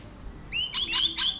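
Birds in a backyard guava tree in Sydney give a quick run of shrill, whistling chirps, three or four close, loud calls in fast succession after a moment of quiet.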